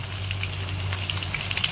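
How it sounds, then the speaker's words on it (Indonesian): Barramundi fish frying in hot oil, a continuous crackling sizzle with scattered sharper pops, steady and close with a low hum beneath. "Kita goreng dalam 2 hingga 3 minit lah."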